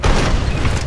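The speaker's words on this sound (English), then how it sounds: "That is, if a cannon doesn't get to you first." Cannon fire booms in a Red Dead Redemption multiplayer match, a dense, loud, continuous rumble of blasts and low-end roar filling the whole moment without any voices.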